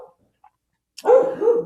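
A pet dog indoors barks after near silence, with a couple of loud, close barks in quick succession following a faint earlier yip.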